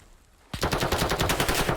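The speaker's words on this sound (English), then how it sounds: "A lot of gunfire rattling out towards those archways." Gunfire in an esports video game match: after a brief quiet lead-in, a sudden burst of rapid automatic fire rattles on in quick, even shots until the end, with no commentary over it.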